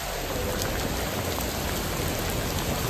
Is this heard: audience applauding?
no